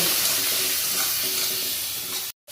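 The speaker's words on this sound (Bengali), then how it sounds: "চিংড়ি মাছ ভেজে নেবো হলুদ নুনগুলো দিয়ে হালকা করে ভেজে" Small shrimp frying in hot oil with turmeric and salt, a strong, even sizzle with faint stirring, close and continuous before cutting abruptly to silence just before the end.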